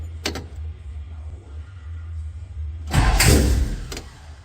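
A Henry J car engine cranks and catches during ignition testing, with a low steady idle rumble followed by a louder, harsher burst of cranking and firing near the end, heard close up with no talking.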